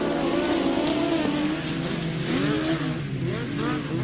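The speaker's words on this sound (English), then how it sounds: "Lots of revs on, they're under started orders and away they go down the first straight." Grasstrack racing motorcycles rev hard on the start line and then accelerate away together down the first straight, a loud continuous multi-engine roar with rising and falling pitch sweeps.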